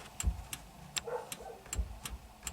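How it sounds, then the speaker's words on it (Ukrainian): Sharp, evenly spaced clicks from a relay in a VW T3 van's wiring, about two per second, quiet and close with faint low rumble underneath. "І через реле ось красний проводок іде на масу на концевичок. Ось чутек як, чути він клацає."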